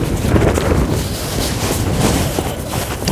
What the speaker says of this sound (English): As you can see, the wind's picked up.